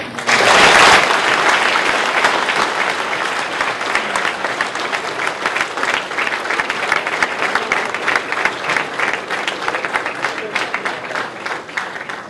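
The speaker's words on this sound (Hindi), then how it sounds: "तालियां तो आपने बजाई" An audience at the Young Entrepreneurs' Meet of the Vibrant Gujarat Global Investment Summit 2013 claps loudly, with a dense burst at the start that settles into sustained applause, a voice speaking over it.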